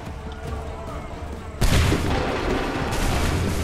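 Musket volley in the Battle of Lexington in Assassin's Creed III, a sudden loud mass of simultaneous shots bursting in after quiet battlefield ambience, followed by rolling gunfire and a second surge of shots.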